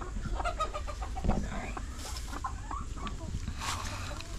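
Chickens on a Philippine farm cluck and call in short, scattered bursts at moderate distance, with some faint bird chirps and rustling around them in an open outdoor setting.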